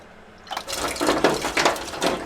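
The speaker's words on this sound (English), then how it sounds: "We have a marine foot pump for our water" Water gushes in pulsed bursts from a marine foot pump at the sink of a converted school bus home, starting after a brief quiet moment and surging several times as the pump is pressed, close and fairly loud with no talking.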